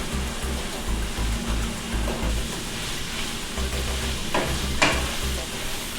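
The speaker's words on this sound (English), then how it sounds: "Fry it up for a little bit" Pasta sauce for lasagna frying in a pan, a dense continuous sizzle with bubbling and occasional spoon scrapes, close and steady throughout.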